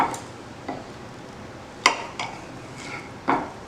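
Knife and fork scraping and clinking on a plate while cutting a grilled pork steak, a few sparse sharp taps and scrapes spaced across a quiet background.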